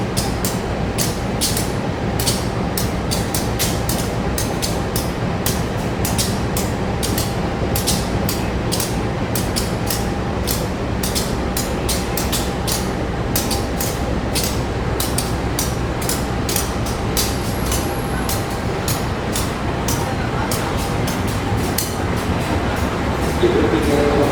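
The Dharmawangsa emergency trainset stands at platform 2 of a railway station, with a continuous rumbling hum of the train and station, rapid clicking bursts, and occasional faint clatter under a constant loud background.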